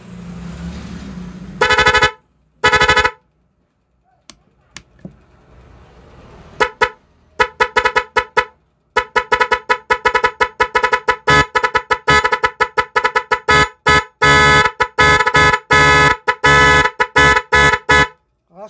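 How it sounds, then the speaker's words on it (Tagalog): Car horn honking in rapid, rhythmic bursts, loud and close, some short toots and some held notes, forming a beeping pattern with brief pauses. "update sa busina natin para i-level up natin"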